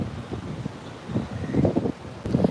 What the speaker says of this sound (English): Now it's really windy here.